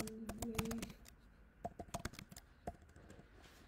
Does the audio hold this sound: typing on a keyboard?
yes